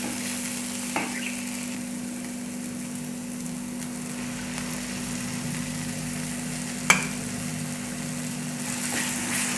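Eggs frying in a pan with already-fried spices for anda bhurji, a soft continuous sizzle with a couple of sharp clinks from a utensil.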